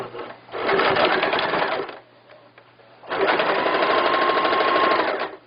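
A sewing machine stitches an elastic-waist floral skirt in two long bursts, the first roughly 1.5 seconds and the second about 2.5 seconds, with a short quiet pause between them. The whirring is loud and close, with no talking.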